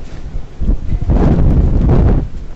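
Typhoon Hato's wind roars at the Star Ferry Pier in Hong Kong, buffeting the microphone in loud, continuous rumbling gusts that swell midway and stay strong, with no voices.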